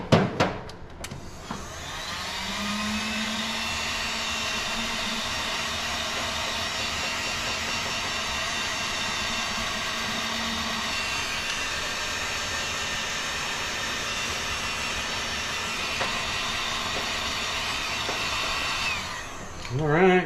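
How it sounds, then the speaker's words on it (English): A heat gun blows steadily and close by while shrinking heat shrink tubing over a new fusible link wire on a 1987 Dodge D150 pickup, holding an even whooshing roar for most of the stretch. "Let me plug my heat gun back in."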